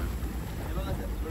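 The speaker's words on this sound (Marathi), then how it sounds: "सो आता आपली बोट निघालेली आहे, तुम्ही बघू शकता" A boat pulls away across the water on a coastal family trip at Malvan, its steady low rumble blending with wind buffeting the microphone over a brief, continuous stretch.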